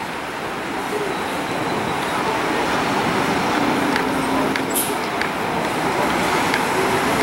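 A Pássaro Marrom coach pulls into the Tietê bus terminal in São Paulo, its engine a steady low rumble amid terminal traffic noise, with faint higher clatters toward the end.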